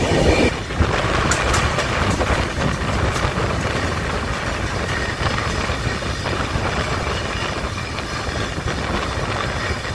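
The Howrah to Puri Shatabdi Express runs along the track, heard as a steady, dense rumble with faint rhythmic clacks, continuous and fairly loud throughout with no voices.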